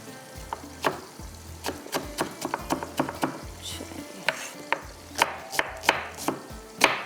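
Knife chopping onion on a cutting board in a home kitchen while a fish curry is made, close, sharp irregular taps coming in quick clusters and pauses over a faint background hiss.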